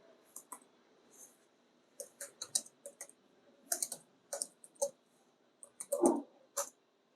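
A command is typed on a computer keyboard as a scattered run of quiet, close keystrokes in small bursts with short gaps, one slightly heavier press near the end.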